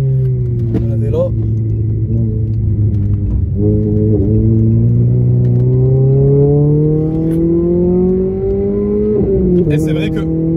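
Renault Clio 3 RS engine pulling hard out of a corner, a loud continuous in-car drone that climbs steadily in pitch through the gears with a brief dip at a shift, a voice speaking over it.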